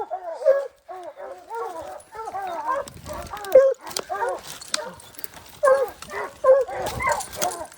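Hunting dogs on a spring bear hunt in snowy Utah yelp, bark and whimper in rapid, excited bursts close by, with people talking intermittently over them.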